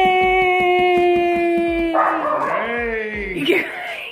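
Excited dogs yip, whine and bark loudly at close range in a home, with a high, drawn-out tonal whine and voices mixed in.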